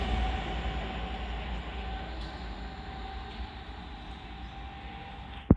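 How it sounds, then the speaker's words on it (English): An LNER Azuma train, running very late on the East Coast Main Line at Hitchin, rolls past slowly with a steady, broad rumble that fades gradually before a brief sharp knock at the very end. "Train passing is going to be an LNER Zoomer"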